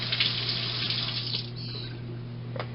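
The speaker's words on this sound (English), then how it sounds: "you rinse the spoon off" Running water from a kitchen tap as a spoon is rinsed, a steady close wash of flow with a low hum underneath, continuous for a few seconds.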